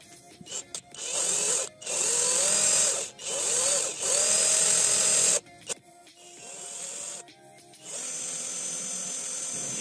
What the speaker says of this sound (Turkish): Şarjlı matkap ve demir fesleresi ile kolayca iki eşit parçaya kesiyoruz.